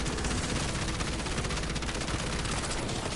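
Rapid video game gunfire rattles continuously, a dense, loud stream of automatic shots with no pauses throughout.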